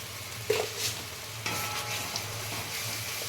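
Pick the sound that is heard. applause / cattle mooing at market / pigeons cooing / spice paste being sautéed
spice paste being sautéed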